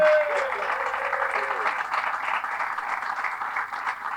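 An outdoor crowd at a street dedication ceremony applauds guests, including a university baseball team and coach, with steady, full clapping that holds at a consistent level for the whole stretch.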